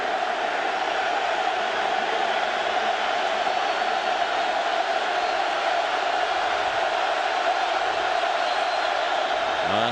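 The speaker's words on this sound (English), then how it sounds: "This crowd is re-energized." A Nebraska home football stadium crowd roars in a dense, continuous wall of cheering and shouting, loud and sustained with no break.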